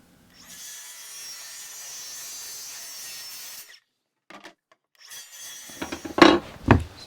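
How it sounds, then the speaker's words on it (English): Miter saw crosscutting wood boards to length: a steady sawing run of about three seconds, a short pause, then a second cut ending in sharp, loud knocks as the pieces are handled. "First stop is the miter saw. Cut everything to length."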